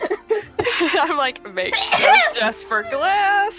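A single sharp sneeze bursts out in the middle of a lively conversation, with several people talking around it.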